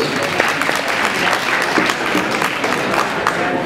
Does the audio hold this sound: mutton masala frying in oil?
no